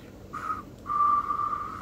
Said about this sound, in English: Oh, my whistle is absolutely terrible.